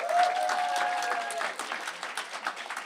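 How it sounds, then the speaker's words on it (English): An open mic night crowd at a music club gives a round of applause for the performers, a brief burst of clapping that starts fuller and thins into looser claps, with a sustained tone ringing faintly early on. "Can we give a round of applause for everyone who performed tonight?"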